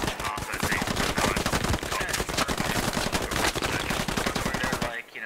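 Sustained automatic gunfire in the military shooter game Squad, a dense rapid stream of shots lasting about five seconds, loud and close, with other fire layered in and stopping abruptly.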